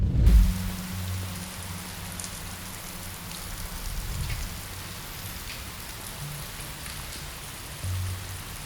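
Steady rain for a rainy Cyberpunk 2077 city scene patters evenly on surfaces throughout, with a few low rumbles near the start and end.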